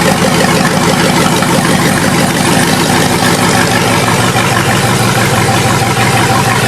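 A Dodge Ram Power Wagon truck fitted with a supercharged Hellcat V8 idles steadily, a loud, close, even rumble that holds unchanged from start to finish with no voices over it.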